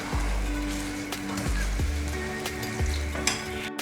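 Peanut chikki sizzling in a pan over a high flame while it is stirred, a continuous close frying hiss with periodic scraping strokes of the spoon.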